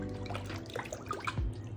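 A makeup brush being wet in a filled bathroom sink, with faint swishing and dripping water, small splashes and a low gurgle near the end, close and quiet.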